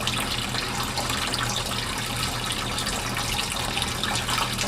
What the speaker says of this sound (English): now we're taking that hot water in the sink, just straight out of the tap, straight out of the faucet.